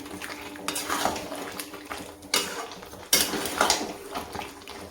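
Marinated food being stirred and fried in a pan over high flame, with a spoon scraping and clanking against the metal at irregular intervals over a low sizzle, close up.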